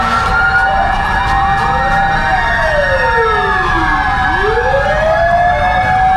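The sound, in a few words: fire truck siren at a third-alarm fire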